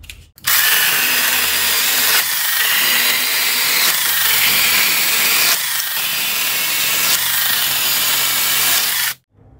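A Wosai brushless 20V mini chainsaw cuts through dry wood, a loud continuous high-pitched motor whine and rasping chain buzz for about nine seconds, with brief dips in load, starting and stopping abruptly, close up and with no talk.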